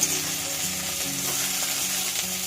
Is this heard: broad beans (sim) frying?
yes